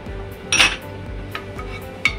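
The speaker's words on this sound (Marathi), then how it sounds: "आता आपण गॅसवर एक कढई ठेवल्या असा, त्याच्यात आता आपण घालतलो तेल" A kadhai set down on a gas stove with a clear metallic clank, followed by lighter clinks of metal and utensils over a faint steady hum, close by and without voices.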